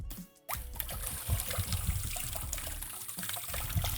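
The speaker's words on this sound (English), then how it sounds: "let me turn off the water" Tap water runs over two action cameras, an Insta360 X5 and a DJI Osmo 360, in a steady close splashing rush after a brief pause at the start.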